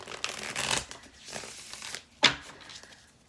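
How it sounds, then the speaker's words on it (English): A Lightseers Tarot card deck is shuffled by hand: several crisp riffling bursts of card stock, close and fairly quiet, with a sharper snap near the end. "Let's go ahead and give her a good shuffle."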